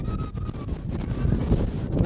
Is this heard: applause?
no